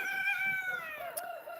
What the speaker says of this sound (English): To let the chickens out now.